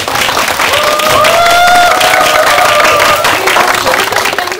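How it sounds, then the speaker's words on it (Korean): Loud applause from a film festival audience for a director and actors after a Q&A screening, sustained clapping with crowd noise and a faint voice briefly audible over it. "감독님과 배우님께 큰 박수 한번 부탁드리고 마치도록"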